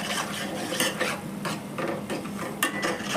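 Chicken curry masala with coriander powder and chili being stirred in a pan, a continuous scraping and clinking of a spoon against metal over a faint sizzle, close and steady.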